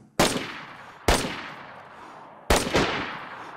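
Three loud, sharp gunshots in the video game DayZ 1.04, spaced about a second apart, each with a long echoing decay across an open field, and no talking.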